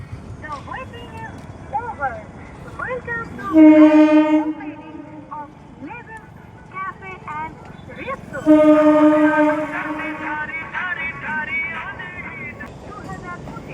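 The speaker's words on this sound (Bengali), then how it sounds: "আর এক্ষুনি একটা ট্রেন ক্রস করবে।" A train near Arambagh railway station blows two long, loud horn blasts as it approaches a level crossing, with rumbling between them and a person talking underneath.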